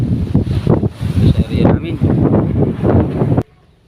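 Strong wind buffets the microphone with loud, gusting rumbles over choppy water, then cuts off abruptly near the end.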